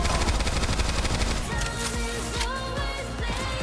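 Video game gunfire as enemies shoot at the player: dense, rapid automatic fire at first, thinning into scattered sharp shots over game music and effects.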